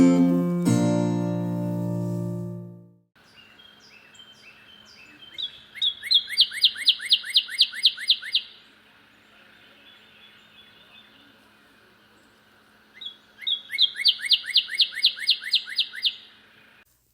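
Northern cardinal song in a backyard: two bursts of loud, clear whistled notes repeated in quick rhythmic series, separated by quieter chirps, following a short piano intro.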